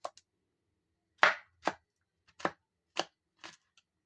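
A knife chopping potatoes into small pieces, about seven crisp, close strikes on a board at an uneven pace, separated by near silence, with no talking.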